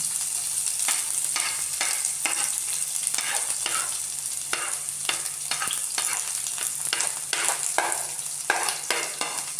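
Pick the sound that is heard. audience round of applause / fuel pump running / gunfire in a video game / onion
onion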